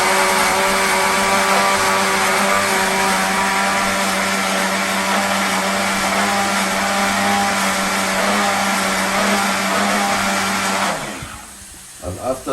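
A kitchen blender whirs loud and steady as it mixes pancake pizza batter, running for about eleven seconds before cutting off, followed by a few soft knocks.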